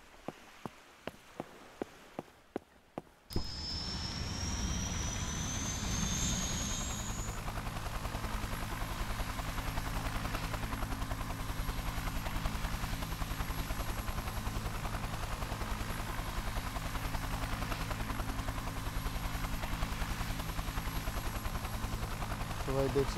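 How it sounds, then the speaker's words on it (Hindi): Advanced helicopter over the sea in a game, a few sharp clicks at first, then a steady, loud rotor and engine drone that settles into a continuous whirring hum for the rest of the stretch. "आज मैं अपना जो हेलीकॉप्टर है उसे वापस स्टार्ट करूँगा"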